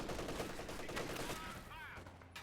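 MG34 machine gun firing in Company of Heroes 2, rapid bursts under battle noise with other gunfire, fairly faint and mixed with game sounds and speech.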